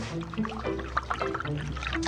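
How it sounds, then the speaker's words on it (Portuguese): A spoonful of water poured into white glue in a jar, giving a soft, close trickling and dribbling of liquid over a couple of seconds. "Acrescente 1 colher de água à cola"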